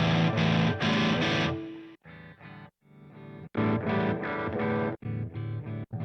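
Distorted electric guitar run through a Line 6 HX Stomp preset, playing loud, dense chords in choppy bursts with brief gaps and a short pause midway, no voices.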